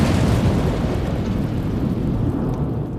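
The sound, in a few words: huge explosion of a ship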